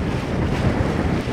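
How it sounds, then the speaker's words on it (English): Squall wind roars steadily against the microphone around a sailing boat at anchor in very shallow water, with waves and surf washing close and loud throughout, no voices. "We're going to anchor here until this squall passes."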